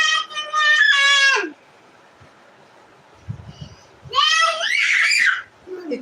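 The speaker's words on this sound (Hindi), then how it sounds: "इतना मत चीखो बेटी।" A young girl screams loudly in two long, piercing bursts separated by a quieter gap with a few low knocks, recorded at home.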